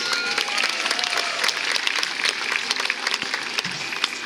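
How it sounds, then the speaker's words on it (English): An outdoor crowd at a SeaWorld San Diego killer whale show applauds in a steady, crackling burst of many hands, fairly close and continuous throughout. "Everyone give a nice round of applause for Cameron and Elise."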